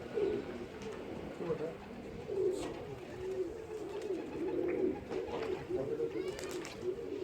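Pigeons coo repeatedly from close by, a steady low warbling murmur that carries through the whole stretch, with a few soft higher chirps and flutters mixed in as birds settle and land on a rooftop perch.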